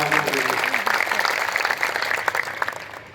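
A village crowd at a rural political gathering claps loudly and continuously, dense applause that fades slightly toward the end, with a voice speaking briefly over it.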